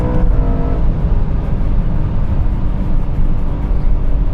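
A tuned BMW M3 engine revving hard toward a raised 8,500 rpm limit, a loud, sustained, rising engine roar heard from inside the car, with no talk over it.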